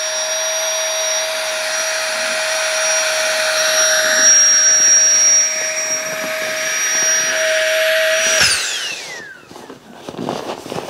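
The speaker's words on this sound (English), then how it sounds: "That's all it took to inflate that pillow." A Flextail Gear Tiny Pump 2X electric pump blows air into a Nature Hike camping pillow, a steady loud whine for about eight seconds that then cuts off, leaving faint handling noises.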